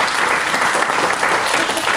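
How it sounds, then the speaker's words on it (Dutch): Audience applause at a children's book reading, a dense, even roar of many clapping hands filling the whole moment without a break. "Ja, applaus."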